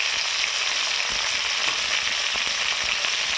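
Eggplant pieces sizzle in a pan with half-fried cauliflower and potato for a dry khichdi: a steady, close frying hiss with scattered light stirring clicks and no voices.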